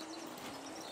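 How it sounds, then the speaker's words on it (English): Birds call in the ambient soundscape of the fishing game Call of the Wild: The Angler, with a soft cooing dove-like note over a faint, steady outdoor background, brief and quiet. "atmospheric sounds of the birds"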